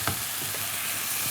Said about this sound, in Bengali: একটু কষাতে হবে।